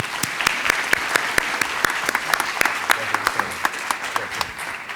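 An audience at an economics lecture event claps for the presenter, fairly sparse and moderately loud with distinct individual claps in an uneven rhythm, continuing steadily through the whole stretch.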